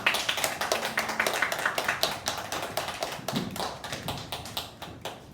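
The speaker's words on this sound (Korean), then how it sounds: "큰 박수로 환영합니다" A church congregation at a Sunday worship service claps to welcome a pastor, a close, fairly loud burst of individual hand claps with a distinct rhythm that gradually thins out, no talking over it.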